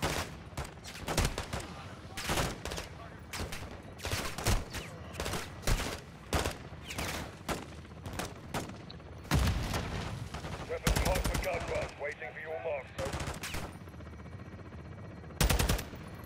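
Bursts of automatic gunfire in Call of Duty: Modern Warfare 2, loud rapid volleys in irregular clusters throughout, with brief voices calling out between shots.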